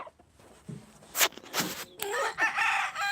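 Desi country chickens on a farm, with a rooster crowing close by over scattered clucks and rustling, the loud crow rising near the end of the brief clip.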